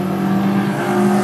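Stock Hornet class race cars with OE suspension and drivetrain run around North Central Speedway, a steady loud engine drone filling the short span with no pauses.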